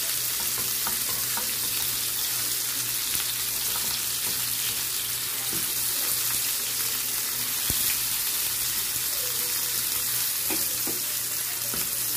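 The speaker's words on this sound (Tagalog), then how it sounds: "Gisa muna natin ang ating giniling." Ground meat sautés in cooking oil in a pan, giving a continuous loud sizzle with occasional scrapes and clicks of stirring and a faint background hum.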